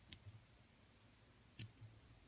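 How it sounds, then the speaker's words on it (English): Sharp scissors snipping fly-tying material in stages, heard as two crisp, quiet snips about a second and a half apart against near silence, with no talking. "take your sharp scissors and just trim away"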